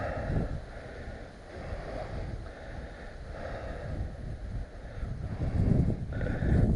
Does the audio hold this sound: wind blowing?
yes